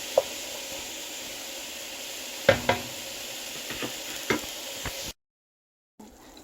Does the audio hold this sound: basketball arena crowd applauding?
no